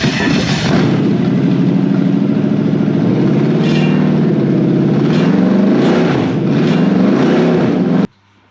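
A car engine fires up while running off a temporary test wiring loom with the fuel pump and ignition wired in, then idles and revs loudly and steadily for about eight seconds before cutting out abruptly.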